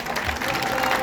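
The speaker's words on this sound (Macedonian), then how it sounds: "еден голем аплауз за сите" Audience applause for young participants at an international youth sports tournament, a dense, steady wash of clapping from a crowd filling the whole brief moment.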